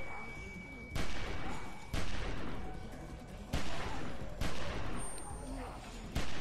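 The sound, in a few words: gunshots in The Walking Dead video game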